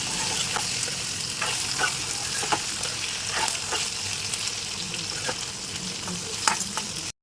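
Salt is stirred into frying seema dumpalu, a steady close sizzle with repeated scraping clicks of the spoon against the pan, no voices.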